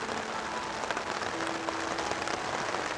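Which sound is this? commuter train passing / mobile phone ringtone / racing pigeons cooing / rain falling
rain falling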